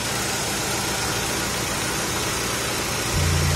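A 2010 Kia Carens with a 1.6-litre, 16-valve twin-cam engine idles with the hood open, giving a steady, smooth, fairly loud drone that swells slightly near the end.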